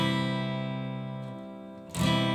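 Acoustic guitar playing single strums in the bridge of a song, one ringing chord decaying for nearly two seconds before a fresh strum lands, played alone and close.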